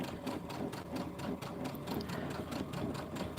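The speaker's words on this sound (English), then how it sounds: "while I go through the serger" A serger stitches fabric layers together for zippy bags, its rapid, even mechanical chatter running steadily and close for a few seconds, with no talk over it.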